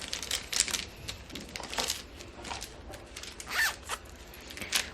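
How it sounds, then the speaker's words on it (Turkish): Crisp zipper rasps from a large pencil case being opened and handled, several short scratchy pulls with light rustling in between, close and fairly quiet. "Bu böyle dev fermuarı olan kalemliklerden."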